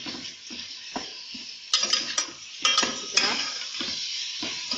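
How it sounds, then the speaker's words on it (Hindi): Keema, minced meat, frying in a pan as it is stirred, a steady hiss of sizzling oil with scraping spoon strokes and a few clinks against the metal, close and fairly quiet, no voices. "अब कीमे को डाल के भूनेंगे।"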